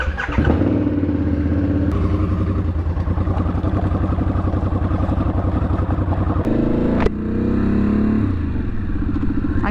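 A motorcycle engine starts up close, then settles into a loud, steady, chugging idle and ride with rhythmic firing pulses, a brief clunk partway through, and a change in pitch as it moves off.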